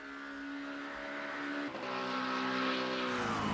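A GT3 race car drives the Miami circuit, its engine a loud steady high whine that shifts pitch mid-run and builds as it carries down the straight.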